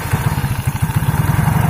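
An old fuel-injected Yamaha X-Ride motorcycle engine catches and runs at a rough, uneven idle. It thumps in a quick pulsing rhythm, loud and close, with no voices over it.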